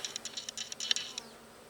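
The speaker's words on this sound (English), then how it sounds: "I don't know if you can see all the different types of bees" Bees buzz around a sunflower in the sun, quick faint wingbeat pulses fluttering close by in short bursts before fading.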